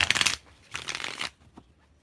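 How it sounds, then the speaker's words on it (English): A deck of tarot cards is shuffled close up in two brisk riffling bursts, each a dense rapid flutter lasting about half a second, with a softer tap after. "One more shuffle."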